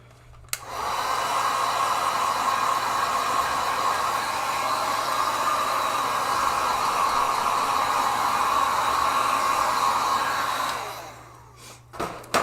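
A hair dryer blows steadily over a gouache painting for about ten seconds, a loud, even, close whoosh that starts abruptly and winds down at the end.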